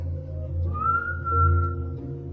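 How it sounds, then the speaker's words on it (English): A man whistles an eerie, drawn-out tune in a dark basement, a single sustained wavering note rising and then holding, heard alone over a low background hum. "a creepy guy slowly walks toward the camera, whistling an eerie tune"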